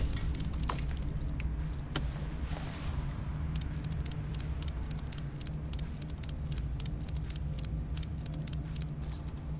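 Metallic clinks and rattles from fitting a car muffler back on in a mechanic simulator game, with a steady low hum beneath and a quick run of sharp taps in the second half.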